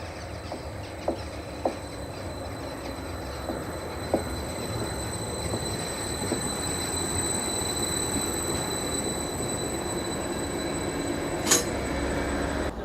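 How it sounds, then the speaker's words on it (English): A train arriving at Buckenham station, a rural platform on the line to Lowestoft, rumbles steadily throughout, with a sustained high wheel squeal and occasional clunks, and a brief sharp screech near the end, moderately close. "just waiting for our train to Lowestoft"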